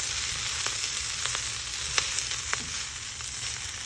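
Baby kale wilting in a tablespoon of hot cooking oil in a pan, giving a steady close sizzle with a few soft stirring ticks and no voices.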